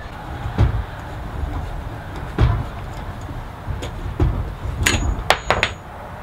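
Metal wind chime tubes dropped onto a hard surface, with several sharp clanks spread out and a quick cluster of bright metallic hits near the end.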